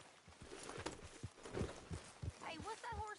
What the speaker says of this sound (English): Hey, what's that horse doing Just in here?